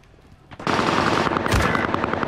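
Machine gun fire in a first-person shooter video game: a loud, continuous rattling burst kicks in after a quiet moment and keeps going steadily to the end, close and dominant.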